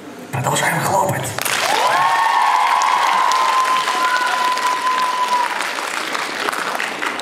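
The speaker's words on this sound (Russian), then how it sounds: "Продолжаем хлопать" A crowd at a solo costume runway show applauds loudly and continuously, while a long sustained tone rings over the clapping for several seconds.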